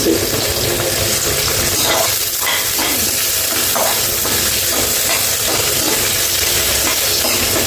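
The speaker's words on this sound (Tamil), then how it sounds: "வெங்காயம் நல்லா வதங்கிட்டு வெங்காயம் நல்லா கலர் மாறி" Onions sauté in a pan for a biryani, giving a steady, close sizzle with faint stirring scrapes throughout and no talking.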